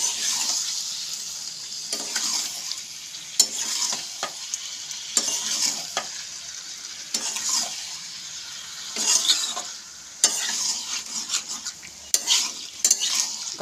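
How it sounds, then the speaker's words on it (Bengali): Boiled bottle gourd stirred in a pan with fish oil, onion and spices, a close, steady sizzle broken by repeated scraping strokes of a spoon over several passes. "মাছের তেল, পেঁয়াজ, সমস্ত মশলার সাথে সেদ্ধ করা লাউটা খুব ভালোভাবে মিশিয়ে নিতে হবে।"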